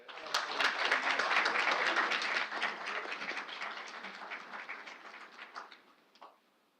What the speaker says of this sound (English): let's give the Dermatones a round of applause